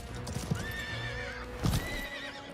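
A horse mount in the game Highguard gallops with clip-clop hoofbeats and gives two close, loud neighs, one early and one late, with no talk.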